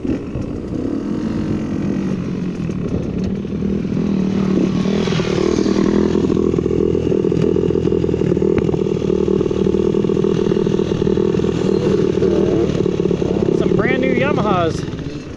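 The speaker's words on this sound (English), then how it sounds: "There's some bikes up ahead." Several motorcycles ride past, their engines droning steadily and swelling as they draw near, with a revving rise toward the end and someone talking over the noise.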